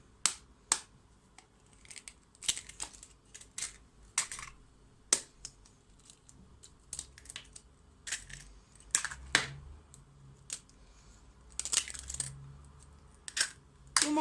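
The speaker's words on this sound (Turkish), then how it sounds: "Şimdi ilk olarak yumurtasını kırıyorum." Eggs cracked one after another into a bowl for a homemade mother's cake batter, giving a string of sharp, close clicks and taps with brief gaps, no talking.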